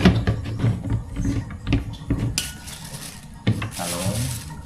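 Eggplant being washed by hand, heard as rubbing and knocking against a basin or dish, followed by bursts of running water splashing, close and fairly loud.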